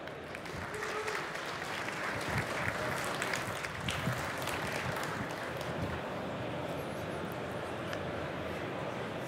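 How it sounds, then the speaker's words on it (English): A conference crowd at Slush 2023 claps in sustained applause for a startup pitch, a dense, steady wash of many hands filling the hall at moderate distance without pause. "Give a huge round of applause for Broadn."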